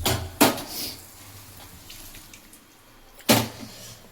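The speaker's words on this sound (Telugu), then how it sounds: "పుదీనా కడుగు, పచ్చిమిర్చి కడగాలి" Mint leaves and green chillies washed under a kitchen tap for chicken biryani: two short bursts of gushing water splash near the start and end, with quieter dripping and handling in between, no talk.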